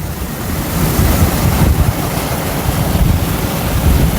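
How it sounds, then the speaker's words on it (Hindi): Strong wind buffets the microphone outdoors beside a water tanker being filled in Saudi Arabia, a loud, steady rumbling roar with gusty swells and no talking. "हवा बहुत ज़्यादा है, आप महसूस कर रहे होंगे।"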